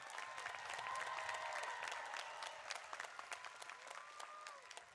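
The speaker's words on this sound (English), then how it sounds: "Graduates, please give these champions who have always been in your corner a big round of applause" Applause fills the hall at the 2021 Cal Poly spring graduation commencement ceremony, a steady wash of clapping from a large crowd with some whistles and cheers that thins out toward the end.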